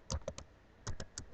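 Someone types on a computer keyboard nearby, a quick burst of three clacking keys, a short pause, then four more crisp strokes, all at low volume with no voices.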